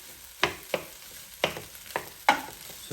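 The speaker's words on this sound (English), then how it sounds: "I'm going to put my rice in there and just chop up all this nice and good together." Leftover rice and bacon sizzling in a Power XL cooker as a utensil chops and stirs through it, five or six sharp scraping knocks spaced irregularly over a steady frying hiss.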